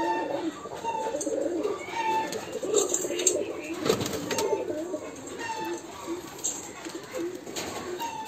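Three pigeons in a new cage coo repeatedly with soft chirps and occasional wing rustles, close and continuous, under a low background hum.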